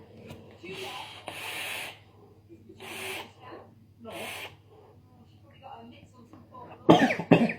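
A person with a cold, vaping, breathes out in several rough, breathy bursts, then coughs hard a few times near the end, loud and close.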